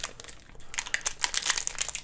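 Plastic packaging on a Degree Arctic Edge deodorant being jabbed open with a key, close rapid crinkling and crackling that grows busier and louder over two seconds, with no talking.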